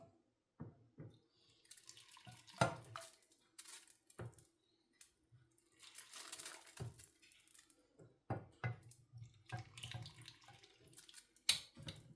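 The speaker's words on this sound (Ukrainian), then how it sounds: "Можна заливати прям гарячим, щоб не лопнула банка, краще ложку покласти у банку." Hot marinade pours and splashes into a glass jar of radishes with a spoon inside, with intermittent clinks of the spoon against the jar, close up and fairly quiet.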